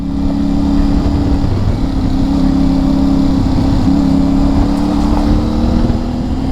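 A 2024 CFMOTO 450MT motorcycle cruises along a dirt road, its engine a loud, steady, close drone with a constant low hum and wind rush throughout, no voices.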